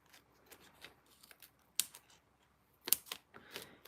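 Scissors snip through paper foam dimensionals for card making, giving sparse, quiet, crisp cuts and small clicks spread irregularly, with two sharper snips standing out in an otherwise quiet room.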